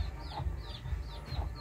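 Chickens clucking in short repeated bursts on a small farm, fairly close, over a low steady background rumble.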